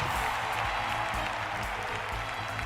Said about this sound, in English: Let's have a gracious round of applause for the second place Sylvia